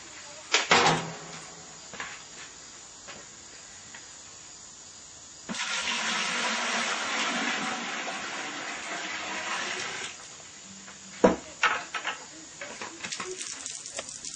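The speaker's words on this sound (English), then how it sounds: "let's see what this does when I pour some water into it" Water pours steadily for several seconds into a leaky bucket, splashing and trickling, with scattered clunks and handling noises before and after.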